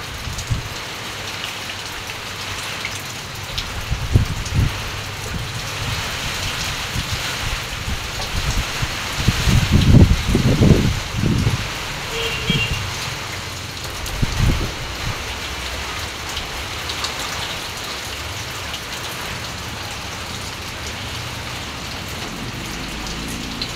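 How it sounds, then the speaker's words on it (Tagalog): Heavy rain pours during Typhoon Uwan as a steady, dense hiss of drops on surfaces, with low rumbling gusts swelling midway and no voices. "Maulan na talaga mga ka-moment."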